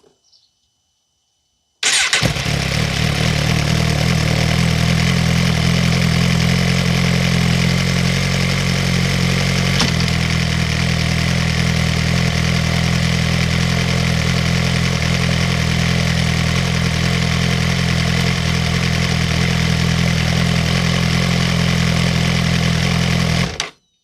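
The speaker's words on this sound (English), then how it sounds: "you'll turn on the bike to see if your adjustment is correct." A Suzuki GSXR motorcycle engine starts abruptly and settles into a steady, loud idle, holding a constant throbbing hum close by for about twenty seconds before cutting off.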